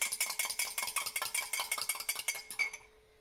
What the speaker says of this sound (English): So I'm just whisking that up a little bit.